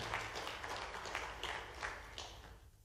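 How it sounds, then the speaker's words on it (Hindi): Faint, distant applause from a crowd at a political event, a continuous patter of many hands clapping that fades slightly toward the end. "उनका ताली बजा करके स्मरण करें"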